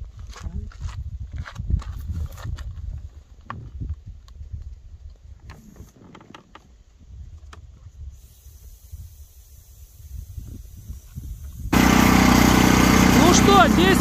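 A Neva walk-behind tractor ridden along a road, its small engine running steadily at close range with clattering and rumble, getting louder toward the end.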